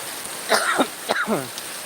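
Steady hiss of heavy rain fills the background while a person nearby makes brief throat and voice sounds.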